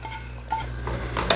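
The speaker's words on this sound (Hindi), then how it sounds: "अब देखिए ये तड़का इसमें डाल देंगे" Hot tadka tempering poured into a pot of chana batata and then stirred, with a metal spoon clinking and scraping against the cookware in short, close bursts and no talking.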